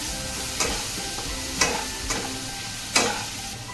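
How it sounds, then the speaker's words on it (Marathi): Asafoetida and ground green chilli sizzle steadily in a hot pan, with a few sharp scraping stirs breaking through the frying hiss. "थोडंसं हिंग आणि वाटण केलेलं हिरवी मिरची परतून घेऊया"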